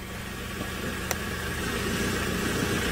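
A car engine idles steadily on safari, parked beside a bushbuck carcass, giving a continuous low rumble at moderate level with no talking.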